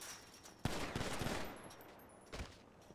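Gunfire in a GTA roleplay game session: a sudden loud burst of rapid shots, a quick fusillade of several cracks, then a short pause and a second brief volley near the end, fairly close and without talk.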